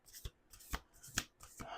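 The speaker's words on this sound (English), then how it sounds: "we're going to do 2 more shuffles" A deck of playing cards is riffle-shuffled three or four times in quick bursts, each a short crisp ripple with soft pauses between, close and fairly quiet.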